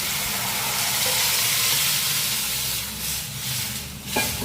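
Shallots, dried red chilies, coriander and curry leaves fry in hot oil for Tamil tomato kulambu, a loud, dense, continuous close sizzle that eases slightly near the end.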